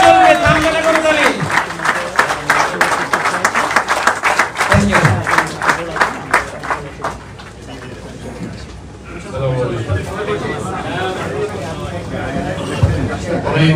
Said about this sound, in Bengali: ঐতিহাসিক মুহূর্ত করতালিও চলবে, তামগানা করতালি।